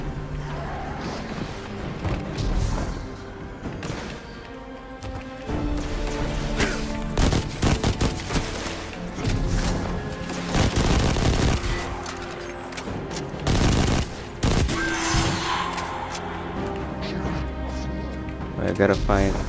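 The Misfit, a fast rapid-fire gun in Destiny 2, shooting in the EDZ: bursts of gunfire and impacts over game music and effects, with someone talking at points.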